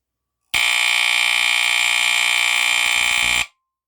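A FireX FXC-1 smoke detector blares a loud, continuous high-pitched buzzing tone for about three seconds during a test, then cuts off abruptly.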